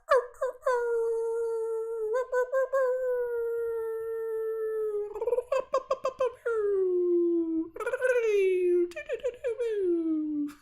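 Several people imitate wolf howls with their voices, long sliding tones rising and falling, broken by bursts of whooping and laughter, loud and close throughout.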